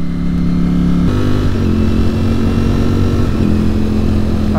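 A loud stock-exhaust motorcycle engine, a Ducati Streetfighter V4 or Aprilia Tuono V4 Factory, rumbles nearby, with pitch shifts as it revs and gears change, ending in a rising whine of acceleration.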